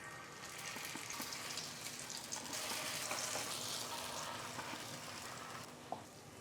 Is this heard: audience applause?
no